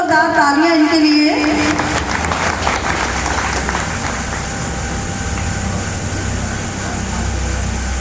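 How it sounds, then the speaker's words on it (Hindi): A hall audience at a Grandparents Day celebration breaks into loud, sustained applause that begins after a couple of seconds and continues steadily to the end, following a brief voice at the start. "जोरदार तालियां इनके लिए।"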